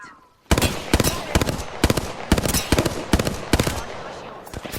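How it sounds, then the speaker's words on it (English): Rapid automatic gunfire from the Apex Legends video game, heard as loud, close bursts of shots in a quick uneven rhythm after a brief quiet start, with no speech. "Shot fired. They're hitting me."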